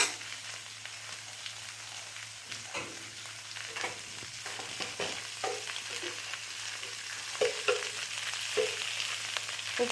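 Okra fries in a hot pan with salt as a spatula stirs it, producing a steady soft sizzle broken by scattered scraping clicks and taps, close and moderately quiet.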